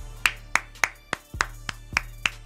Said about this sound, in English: I'm gonna end this video by clapping, bro.